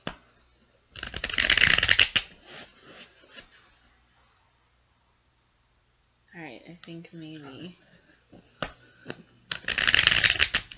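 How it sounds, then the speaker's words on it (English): Tarot cards being shuffled by hand in two brisk riffling bursts, one near the start and one at the end, close and crisp, with a person talking softly in between. "3 more shuffles should do the trick."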